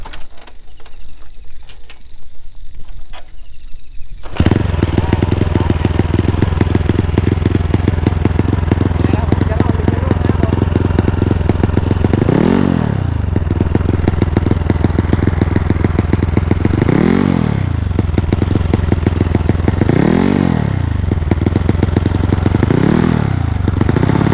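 A Honda Wave 110i motorcycle fitted with a 125cc engine, 72 mm bore, 4 valves and a two-reed intake, starts loud and close, idles roughly, then gives several sharp revving blips with a voice speaking over it.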